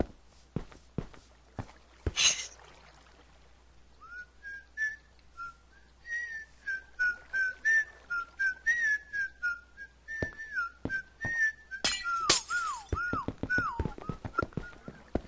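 A person whistles a melodic tune, with a run of clear pitched phrases that slide up and down, mixed with sharp clicks and taps at the start and end.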